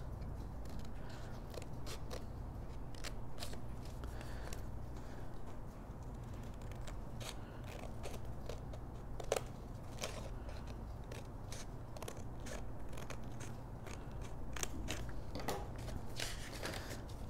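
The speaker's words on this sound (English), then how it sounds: "we can go ahead and cut on our lines" Paper is cut along drawn lines with scissors for a pop-up mini album, a run of quiet, crisp snips at an irregular pace over a low steady hum, close and faint, with no talk.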